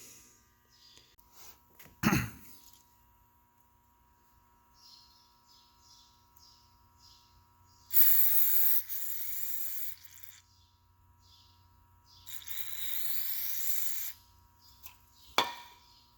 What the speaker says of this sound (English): put a little brake clean in the spout there and see what happens